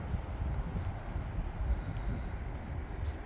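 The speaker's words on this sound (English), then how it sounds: "me just wait for the wind to pass" Wind gusting across an open Swedish nature landscape, a steady low rumbling buffet against the microphone that stays fairly close and constant, with no voices.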